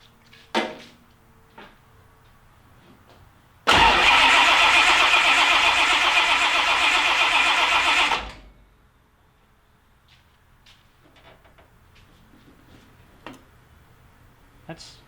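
A car starter cranks a newly fitted engine during a compression test, a loud, steady, rhythmic churning lasting about four seconds without firing, set between quiet stretches with faint clicks and handling noises.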